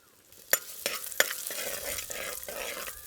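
Cut garlic, about 100 grams, fries in a little oil for a village garlic chicken. Steady close sizzle runs under several sharp scrapes and knocks as it is stirred.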